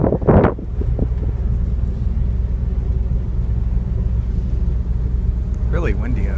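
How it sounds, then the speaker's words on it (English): Strong wind buffets the microphone on the open deck of a BC Ferries vessel, a constant heavy low rumble with the ship's hum beneath; a short burst of talk opens and a voice murmurs near the end. "Really windy out here."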